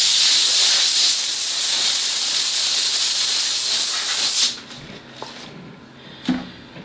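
A garden hose sprays water to clean off a wooden jewelry box, a loud steady hiss for about four seconds that cuts off abruptly, followed by a few faint knocks and a brief thud.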